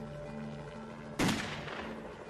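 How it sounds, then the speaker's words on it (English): A single loud gunshot rings out during the North Hollywood bank shootout, a sharp crack with a brief decaying tail over a low, steady background hum. "But Phillips carries on shooting."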